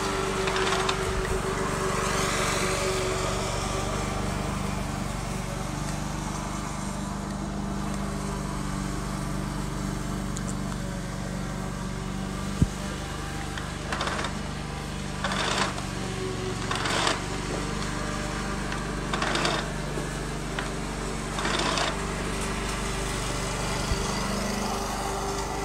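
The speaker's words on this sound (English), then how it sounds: "How I go with vacuuming my floor." Household vacuum cleaner running steadily across a floor during home chores, a continuous mid-loud motor drone with brief bumps and scrapes as the nozzle moves, no talking.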